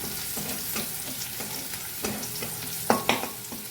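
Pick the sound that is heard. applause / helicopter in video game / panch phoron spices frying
panch phoron spices frying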